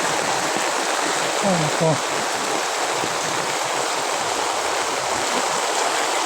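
Floodwater rushing steadily after heavy rain near a house, a continuous broadband roar like a stream, close and loud, with a brief spoken question near the start.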